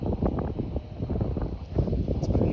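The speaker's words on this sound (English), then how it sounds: "It's pretty windy" Low, blustery rumble of wind buffeting the microphone, steady and loud throughout with gusty swells.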